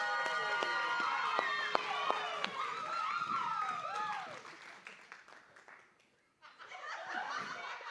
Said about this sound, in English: a much brighter, louder round of applause for one of my very good friends